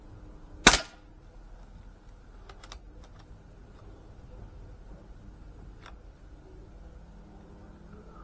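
An air pistol fires a single sharp, loud pellet shot near the start, followed by a few faint mechanical clicks and handling noises in a quiet room.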